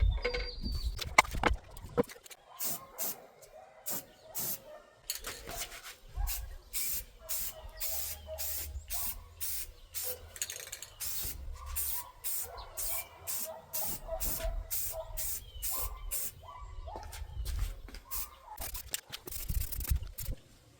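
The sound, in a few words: spraying coats of finish on a deer skull mount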